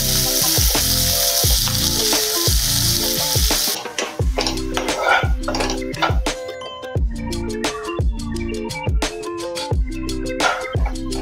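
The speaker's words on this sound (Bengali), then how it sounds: "এবারে এই ঘিয়ের মধ্যে এই মেথি শাকগুলো আমি ফ্রাই করে নেব" Leaves sizzle and crackle loudly in hot ghee, with rhythmic scraping strokes of a spatula stirring the pan throughout.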